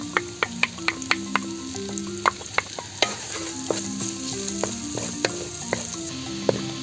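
Garlic frying in a pan for a mussel dish, a soft continuous sizzle with regular sharp clicks of a utensil tapping and stirring, fairly close and quiet, with a faint high whine in the background.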